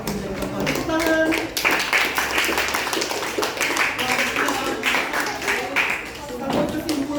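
A classroom of students claps together in a dense burst of applause that runs steadily throughout, close and lively, with voices mixed in underneath.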